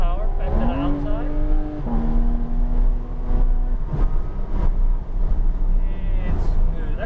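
A Porsche 911 GT3 RS pulls hard on a race track at Palm Beach International Raceway, its engine note climbing and shifting through revs, loud and close from inside the cabin while a driver talks over it.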